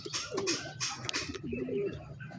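Soft, low coos from a racing pigeon back from a derby race repeat a few times against a busy outdoor background, with brief rustling noises in between.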